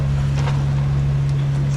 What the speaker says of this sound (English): So we're motor sailing right now.